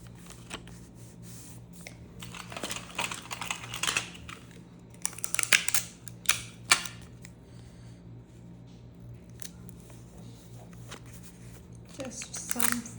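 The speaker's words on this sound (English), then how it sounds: "I will have to use some tape because it's not sitting straight." Adhesive tape being pulled and pressed onto a journal page, with crinkly tearing and rustling bursts scattered across the clip over a steady low background hum, and a voice talking in between.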